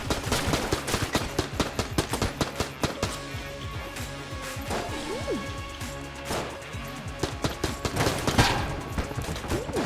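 Ant-shaped gun in Enter the Gungeon firing rapidly, dense continuous volleys of clipped shots under a lively game soundtrack, with a voice talking over the barrage.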